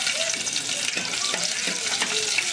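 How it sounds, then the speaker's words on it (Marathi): Chopped onions go into a pan of browned garlic and sizzle hard, a loud continuous frying hiss broken by a few stirring scrapes close by, for a Malvani-style home-cooked meal. "आता त्याच्यात कांदे टाकूया"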